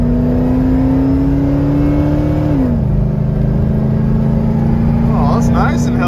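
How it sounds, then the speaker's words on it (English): An old Ford Econoline van accelerates on a highway, its engine droning and rising in pitch, then dropping as it downshifts and climbing again, with someone talking over the steady road noise. "Let's give it thy beans and see what happens here. Oh, downshifted. Sounds good."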